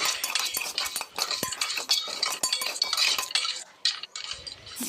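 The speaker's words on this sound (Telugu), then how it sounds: "నెయ్యి వేసేసి వేగిన తర్వాత సేమియా వేసి ఎర్రగా వేయించుకోవాలి" Vermicelli fries in ghee in a pan while a metal spoon stirs it, giving close, busy scraping and clinking with a faint sizzle underneath.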